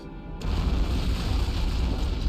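An antimatter charge detonates aboard a ship in Halo: Combat Evolved, a sudden loud deep boom that breaks a near silence and then holds as a sustained rumbling roar.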